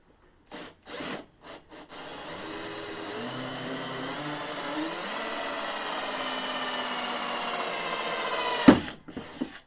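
A few short bursts of a power drill, then a hole saw grinds steadily through a car's plastic bumper for several seconds before stopping with a clunk, while fitting parking sensors to a Fiat 500.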